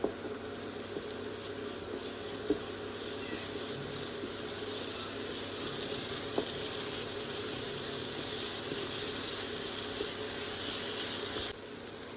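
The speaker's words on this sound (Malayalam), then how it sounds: "മൂപ്പിച്ചെടുക്കാം നന്നായിട്ട് മസാലൻ്റെ പച്ചച്ചവ മാറുന്ന വരെ നമുക്ക് മൂപ്പിച്ചെടുക്കാം" Masala roasting in a pan for a peppered mushroom roast gives off a steady, even sizzling hiss that runs throughout, with a few faint clicks and no talk.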